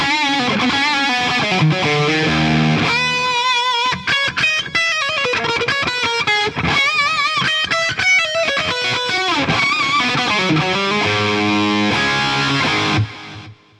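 Electric guitar through BIAS FX amp simulation with delays on both channels, a loud distorted run of chords and lead notes whose repeats trail off at the end, with no speech.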